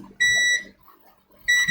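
A multimeter beeps during continuity testing on a Pixel 3 phone circuit board: two sharp, loud electronic tones, the first about half a second long, then a pause and a second beep starting near the end.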